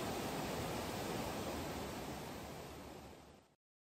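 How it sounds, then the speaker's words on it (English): A rushing glacier-fed mountain river roars as a dense, continuous wash of water noise, loud and steady, fading slightly before cutting off abruptly near the end. "Only the wild noise of a mountain river whose streams rush down from the tops of the glacier."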